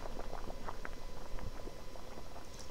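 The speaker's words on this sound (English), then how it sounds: "the pot is boiling" A pot boiling over a fire in the horror puzzle game The Witch's House, giving a steady bubbling, burbling simmer with soft liquid pops, close and alone.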